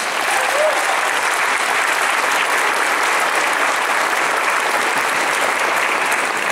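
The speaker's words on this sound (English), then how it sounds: "Give yourselves a round of applause." A large graduation audience applauding, a dense, steady roar of many hands clapping that fills the hall evenly throughout.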